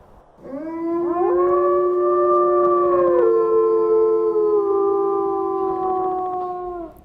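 A wolf howls in the video game WolfQuest, one long sustained mournful howl that rises and bends in pitch over about six seconds, loud and close, with no talking.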